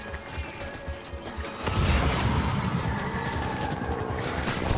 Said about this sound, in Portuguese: Eita, tomando tiro, nem sei de onde tá vindo.